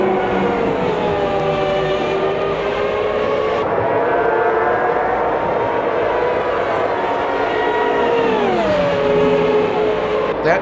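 Race car engines roar continuously in the Automobilista 2 racing game at Road America, alongside a Ferrari, with a steady high-pitched revving drone whose pitch shifts through gear changes, loud and close with no pauses.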